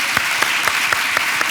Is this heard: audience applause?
yes